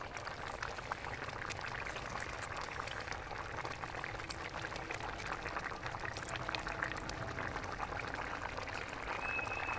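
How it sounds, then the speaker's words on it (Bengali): Kewra water and rose water are poured into a pot of biryani, a continuous soft bubbling and trickling liquid wash that stays even and moderately close for about ten seconds. "এবারে আমি কেওড়া জল আর গোলাপ জলটা দিয়ে দেবো"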